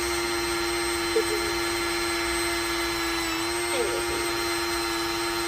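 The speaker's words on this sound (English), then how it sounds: "when you're sanding down the door hinges for the trunk" A power sander drones steadily with a constant high-pitched mechanical hum, close by, sanding metal trunk door hinges on a Honda CRX, while a voice speaks briefly underneath.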